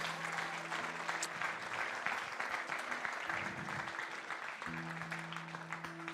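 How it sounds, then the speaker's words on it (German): Steady applause from a large church congregation fills the whole stretch, with a low sustained musical tone humming underneath. "Komm, wir geben einen grossen Applaus"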